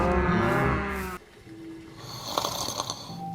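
Flying cows on a farm in No Man's Sky give a few moos, one drawn-out low call followed by a short one, after a stretch of music.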